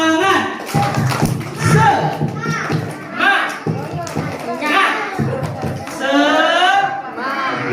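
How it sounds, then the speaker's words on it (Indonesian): Children at a Maulid Nabi gathering clap in a slow spirit-clap routine, scattered claps and thumps mixed with kids' chatter and an adult voice talking over them throughout. "Tepuk dulu dua kali"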